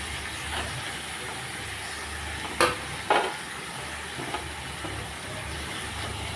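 Spice mix frying with boiled potatoes for matar ghugni, a soft continuous sizzle with two sharp spoon or spatula knocks against the pan partway through.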